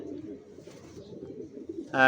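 Adult pigeons coo in a pigeon loft, a low murmuring warble that carries steadily through the whole stretch, with a brighter, louder burst of sound at the very end.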